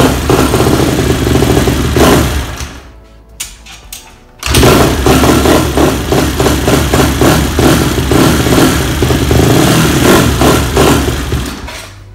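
A small Honda CRF150R dirt bike engine runs loud and close with a rough, rattling idle. It cuts out briefly near the start, then fires up again and keeps running steadily.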